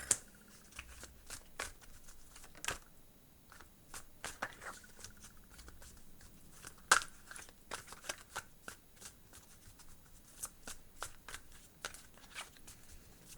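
Tarot cards are shuffled and drawn, producing repeated crisp riffling flutters and sharp card snaps at an irregular rhythm, close and fairly quiet.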